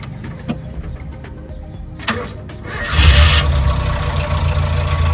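A Toyota Kijang Buaya, a nearly original older vehicle, struggles through cranking with a few clicks and rattles before the engine catches and settles into a loud, rumbling, steady idle up close.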